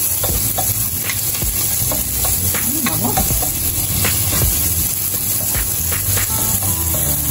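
Sliced onions and garlic fry loudly in a hot pan for a pork steak dish, a dense continuous sizzle with spatula stirring and clinks throughout; no speech.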